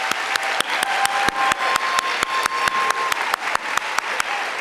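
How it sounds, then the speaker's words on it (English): Applause for teachers at a school district celebration in Arlington, with dense steady clapping from a large audience filling the whole stretch at an even, loud level and no talk. "A great round of applause for all of our teachers."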